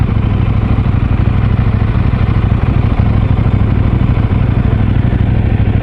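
A KTM 690 single-cylinder motorcycle engine idles steadily, a loud, close, continuous low throb with a faint mechanical clatter and no break across the whole stretch.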